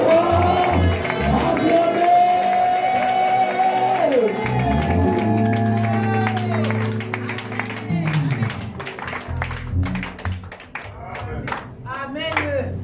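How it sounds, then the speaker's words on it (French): A church congregation cheers, claps and shouts during a prayer service, as sustained singing and music give way to loud rhythmic clapping and whoops from the crowd. The acclamation is close and energetic. "acclamez le roi des rois"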